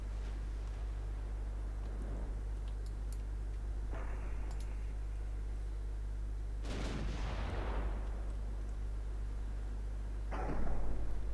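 Naval gunfire from 11-inch and 6-inch guns in the warship game Ultimate Admiral Dreadnoughts: several separate distant booms and cracks over a steady low hum, with one heavier blast midway and another near the end.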